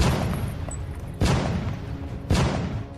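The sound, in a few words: cannon fire explosions in a battle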